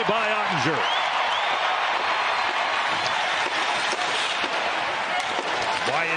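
A hockey arena crowd at an NHL regular-season game between the Dallas Stars and Chicago Blackhawks roars in a dense, continuous wash of cheering and noise, with an announcer talking over it.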